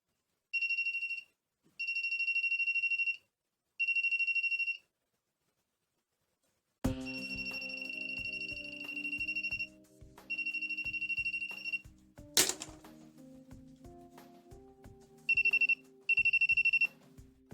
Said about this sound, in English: the voltage tester is ringing only until the level of the water